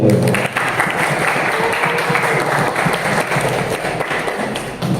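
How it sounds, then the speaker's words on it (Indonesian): Audience applause closing a game-development talk on composing music for action anime games, steady dense clapping with some thuds filling the whole stretch at a loud, even level, with faint voices underneath. "Tepuk tangan untuk kita semua."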